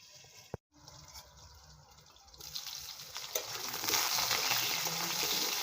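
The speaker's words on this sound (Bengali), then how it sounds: "ঢাকা দিয়ে ভাজবো তাড়াতাড়ি হয়ে যাবে" Potatoes fry in oil under a lid, starting with a muffled hiss and a sharp clack, then swelling into a louder, steady sizzle heard close up with no talking.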